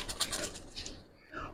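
Giribaz pigeons, old flying loft birds from a racing line, give soft cooing and fluttering sounds up close while someone talks over them.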